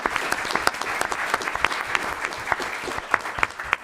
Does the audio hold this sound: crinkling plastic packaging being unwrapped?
no